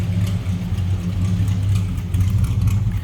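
Flathead V8 exhaust of a 1951 Ford F1 pickup with downspouts behind each wheel, a steady loud low rumble idling close by with slight surges, no talk.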